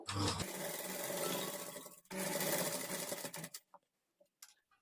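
A sewing machine stitches a princess-cut blouse with invisible thread, running in two loud, fast whirring bursts separated by a brief pause, then stopping with a few faint clicks.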